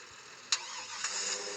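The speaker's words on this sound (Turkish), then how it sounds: "Umarım e, araçların sesi sesimi bastırmıyordur." A vehicle engine cranks and catches, with a couple of sharp bursts as it starts and then settles into a steady mid-pitched hum.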